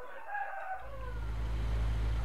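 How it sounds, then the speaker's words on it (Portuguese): A rooster crows once with a drawn-out, falling call that sounds slightly distant, then a loud, low steady rumble rises and covers the background. "o galo inventou de cantar"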